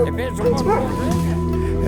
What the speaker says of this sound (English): He didn't bark until he got in this stuff right here.